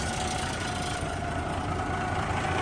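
A classic B model truck with a mechanical diesel idles with a steady, rough, low rumble, heard close and unbroken with a slight rattle.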